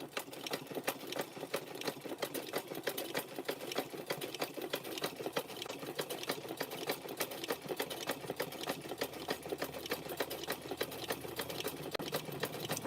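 A sewing machine runs steadily at medium speed while stitching a rope handbag wrapped in fabric strips, producing a continuous rapid mechanical whirring and clatter that is close and unbroken for the whole stretch.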